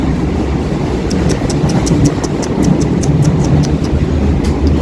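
A passenger train rumbles along steadily, heard from inside, with rhythmic clicking of wheels over rail joints and a continuous low roar of moving carriages.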